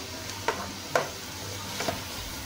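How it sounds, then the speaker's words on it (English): Onion, garlic and sweet pepper sauté in a pan under a steady sizzle, with a few soft utensil taps as they are constantly stirred. "So we're here just getting the vegetable to be a little bit soft, constantly stirring it."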